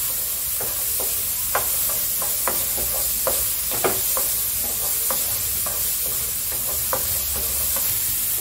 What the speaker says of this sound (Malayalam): സവാളയും പച്ചമുളകും ഇടുക.